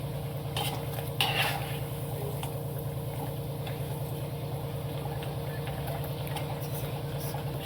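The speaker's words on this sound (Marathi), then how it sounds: "आता आपण ह्या बिबड्या अशा 2-2, 3-3 बिबड्या अशा तळायला सोडूया।" Wheat-bran bibdya wafers fry two or three at a time in hot oil, giving a steady close sizzle with a couple of brief utensil clinks early on.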